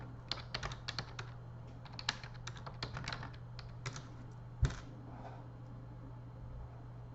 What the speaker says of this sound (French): moi je tape comme ça